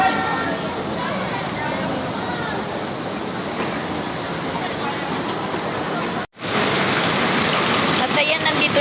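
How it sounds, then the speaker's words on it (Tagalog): Heavy rain pours steadily at an outdoor fiesta, a dense, loud hiss of drops on surfaces that holds without a break, with a brief cut partway through before the downpour sounds stronger again. "Tingnan nyo naman yung ulan. Mas lalong lumakas."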